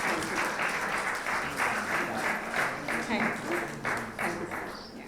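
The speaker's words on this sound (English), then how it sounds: "big round of applause and a standing ovation" Audience at an awards ceremony clapping in a standing ovation, a broad continuous wash of applause with rhythmic pulses, while a voice speaks over it.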